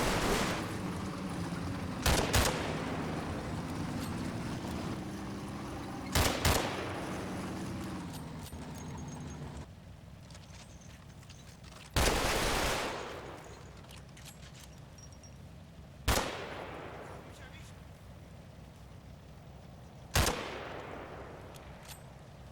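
Combat Mission war game battle as an engaged platoon takes fire: sharp loud gunshot and explosion bursts at irregular intervals, each decaying into echo, over a low background rumble of combat.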